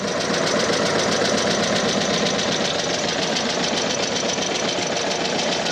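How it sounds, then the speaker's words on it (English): An engine runs up after SCAT pushrod tubes and stainless steel rocker covers are fitted, a loud, steady idle with a rapid mechanical knock that continues throughout, close by and with no talking. "Now let's give it a run up and see how it does."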